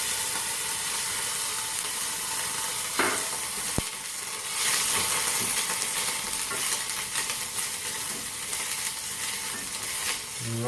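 Hot olive oil sizzles steadily in a pan while a mushroom and green peppercorn sauce is started, a close, even hiss with faint stirring clicks and no talking.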